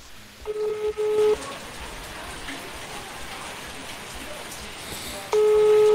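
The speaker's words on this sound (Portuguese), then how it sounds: "Olha o barulho da chuva." Steady rain pattering on a surface in a remote rural spot, a continuous hiss throughout, interrupted by two sustained electronic tones near the start and end.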